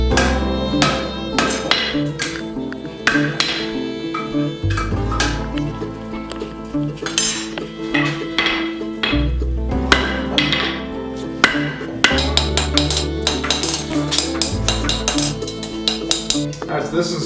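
Hot iron for an 18th-century horseshoe hinge is hammered straight on an anvil, with a steady run of ringing metallic blows, close and loud, in quick regular rhythm with brief pauses, and occasional talk underneath.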